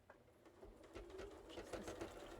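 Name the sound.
sewing machine stitching through many fabric layers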